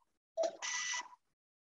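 A short electronic beep sounds once during a talk on measuring occultations of Pluto: a brief lower chirp followed by a steady tone lasting about half a second, clear and isolated against silence.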